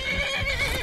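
A horse in the video game Skyrim gives a loud, close whinny that fills the brief moment, with faint hoof clatter beneath it.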